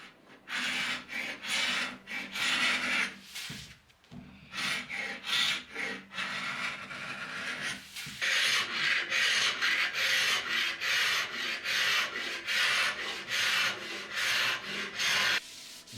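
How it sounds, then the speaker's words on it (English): A hand scraper strips old finish from wooden furniture in long, rasping strokes. The strokes come one after another, close and loud, with a few short pauses between bursts, and no voices are heard. "I also use the scraper to get in nice and close on the edge here."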